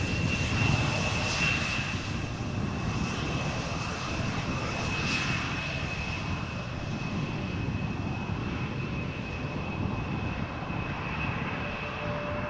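An Embraer 175 jet airliner at Amsterdam Schiphol Airport produces a steady, loud engine roar with a thin whine on top. It fills the whole stretch without a break and carries no speech.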